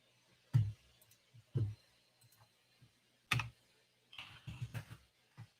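Computer keyboard typing in a quiet room, a few isolated loud key strikes followed by a short burst of quicker, softer keystrokes near the end, heard alone without speech.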